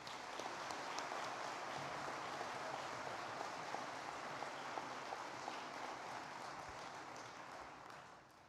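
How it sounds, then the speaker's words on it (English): Sustained applause from a commencement audience honouring student awardees, a dense, even patter of many hands that holds steady and fades slightly at the end. "a final word of congratulations and round of applause for all of our student"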